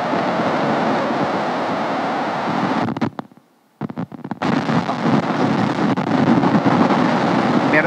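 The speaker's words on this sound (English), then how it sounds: "Or is there thunder outside?" Thunder outside during a Sunday church service: a loud, sustained rumbling roar that briefly drops away midway, then swells back and continues to the end.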